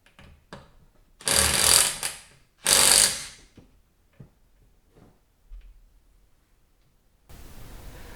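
A car jack being worked under a 2007 VW Beetle convertible during a tire and wheel change in a garage: two loud, rough mechanical bursts about a second each, with faint clicks and knocks between them and a hiss at the end.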